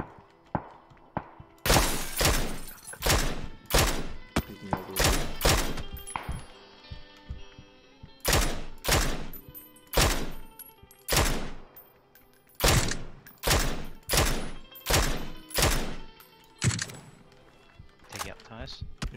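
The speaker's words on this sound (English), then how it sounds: "shot tires on the buggy" Rapid bursts of gunfire in PUBG on Erangel, aimed at a buggy's tires, come as repeated sharp cracks in clusters across the whole stretch, loud and close, with teammates talking over the shots.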